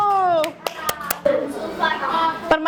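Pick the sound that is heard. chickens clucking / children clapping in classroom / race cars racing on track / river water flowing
children clapping in classroom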